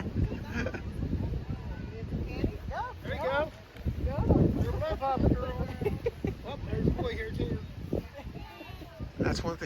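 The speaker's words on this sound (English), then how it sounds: "We have a lot of wind today." Gusty wind buffets the microphone at an outdoor Halloween trunk-or-treat car show, a steady low rumble running beneath nearly continuous talking.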